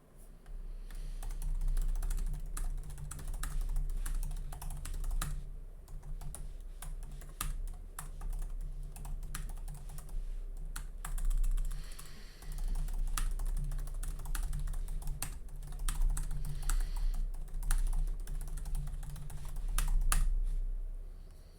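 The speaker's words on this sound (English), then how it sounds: "Due to the typing noises, this is essentially an ASMR stream." Steady computer keyboard typing clatters on for the whole stretch, with close, rapid, uneven keystrokes over a low hum in a quiet room during a LEGO Ninjago Retold behind-the-scenes stream.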